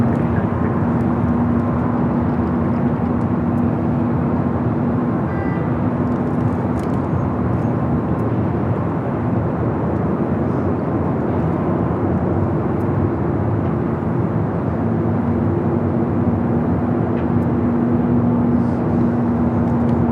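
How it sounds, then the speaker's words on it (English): A United Dreamliner jet rolls down runway 24 left at LAX for takeoff, its engines a steady, loud, continuous roar with a faint whine on top, unbroken across the whole stretch. "The United Dreamliner number 2 for takeoff."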